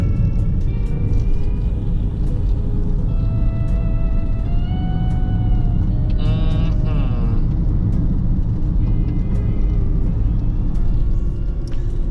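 A Toyota Prius rolling along a dirt road, a steady low road rumble and cabin drone with some faint whining tones riding over it, continuous and fairly loud from inside the car, with no speech.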